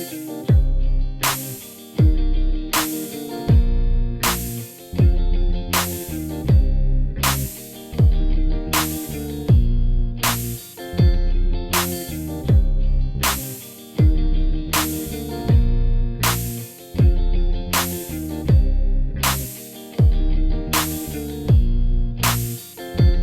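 Electric bass plays a progression through effects, a steady looping groove of punchy repeated notes with a regular rhythm, loud and continuous with no talking.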